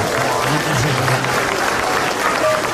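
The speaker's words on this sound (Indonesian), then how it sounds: "Boleh tepuk tangan sekali lagi buat saya." Live studio comedy audience claps and cheers in a steady, loud wash throughout, with crowd noise blended in.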